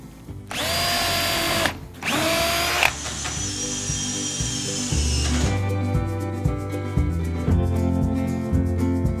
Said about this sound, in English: Just pilot drill again, 50 mil screws